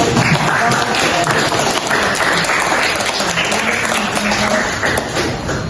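Applause from a school class at SMAN 13 Bone in South Sulawesi after a presenting group finishes, a steady dense clapping that fills the room and stays loud for several seconds.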